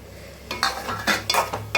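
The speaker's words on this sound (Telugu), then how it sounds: "చక్కగా కలుపుకుందాం" Fried drumsticks being stirred into a pan of curry: a few scraping, clattering strokes of a spoon against the pan, close and moderately loud, with no talking.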